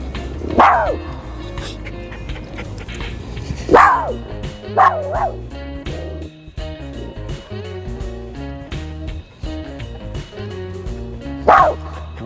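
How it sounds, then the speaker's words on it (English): A dog barks a few times with sharp yips and short whines, spaced apart over a steady low background hum. "He's barking at people there, people over there."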